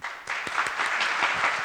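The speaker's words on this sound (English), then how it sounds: "Can you add applause later?" Studio applause sound effect added for a talk show about the cabaret night Cast Party, a steady wash of clapping that swells in after a moment and holds evenly throughout.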